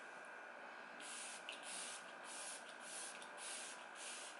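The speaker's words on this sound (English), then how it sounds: "So now for some setting spray, I'm going to use my Morphe Luminous setting spray." Morphe Luminous setting spray hisses from a pump bottle in a quiet room, about seven short bursts in a steady rhythm, close and soft.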